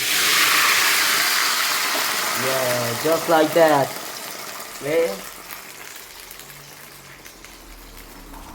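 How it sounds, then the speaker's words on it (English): Wine poured into a hot pan during cooking hits with a loud hiss and sizzle that fades over a couple of seconds, followed by a few brief spoken words over a quieter simmer. "now we pour in the delicious wine"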